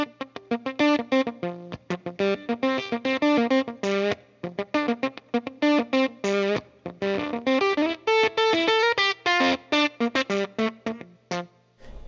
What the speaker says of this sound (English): I'm getting that really gated effect out of the fuzz pedal.